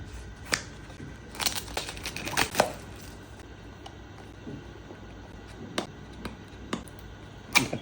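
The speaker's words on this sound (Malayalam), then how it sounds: "അപ്പോൾ ഇത് ജസ്റ്റ് ഒന്ന് അൺബോക്സ് ചെയ്യാം നമുക്ക്." Hollyland A1 microphone package being unboxed: scattered crisp cardboard and plastic crackles, taps and tearing clicks in irregular bursts, close and fairly quiet, no speech.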